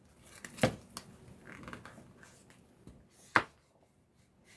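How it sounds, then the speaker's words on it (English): Someone shuffles a tarot deck close by: soft paper rustling broken by two quick, crisp riffle snaps, quiet overall. "I'm going to give this one a good shuffle."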